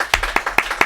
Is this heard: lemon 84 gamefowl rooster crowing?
no